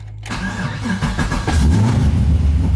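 A car fitted with a new Optima battery cranks briefly and fires up, quickly settling into a loud, close engine idle with a deep, throbbing rumble.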